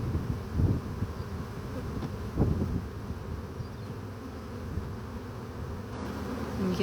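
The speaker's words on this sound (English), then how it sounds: "this is a lot of bees" A large honey bee swarm, dumped out and marching toward a box, fills the air with a dense, continuous buzz that stays steady throughout, with a couple of brief louder bumps near the start.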